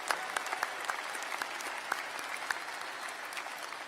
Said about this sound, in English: Another round of applause for our commencement speaker.